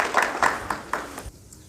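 A few distinct claps ring out as an audience greets a guest at a talk, about four spaced hand claps that fade to near quiet at the end.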